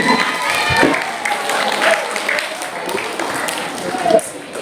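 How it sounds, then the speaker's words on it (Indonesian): Audience applause at an Indonesian Youth Pledge Day anti-bullying event, honoring two speakers: a steady wash of clapping from a crowd that lasts throughout, with voices mixed in. "tepuk tangan untuk Bapak Khairul dan Bapak Angga dulu"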